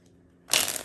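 A regular deck of playing cards being shuffled by hand, a sudden close burst of rapid riffling and fluttering card rattle starting after a quiet moment, no voices.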